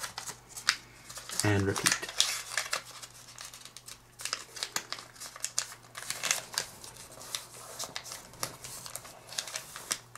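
Origami paper being folded and a flap pushed in while making a jumping Q*bert, soft close crinkles and rustles in short irregular bursts, with quiet speech alongside.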